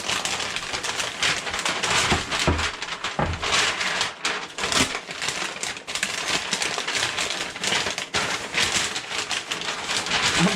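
Butcher paper crinkles and rustles while wrapping a Frenched pork rack roast, a continuous close crackle with sharper crunchy bursts throughout and no voices.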